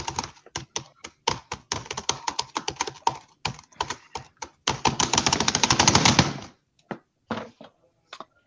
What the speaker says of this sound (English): filling in the awkward silence with keyboard noises again.